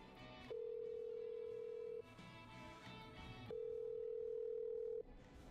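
Telephone dialing in the video game Killer Frequency, heard as two steady ringback tones about a second and a half long with a pause between them, over a low background hum and without speech.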